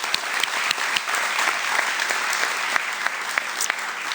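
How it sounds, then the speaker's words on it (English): Audience applause at a radio station's Spring Dream Team awards evening, brisk steady clapping from a crowd with sharper individual claps popping out, loud and unbroken throughout. "Let's give a round of applause for our participating businesses."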